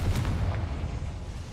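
An explosive blast from a fiery blasting spell in a video game, a short low boom at the start followed by a rumbling tail that decays over about a second and a half, with no talk.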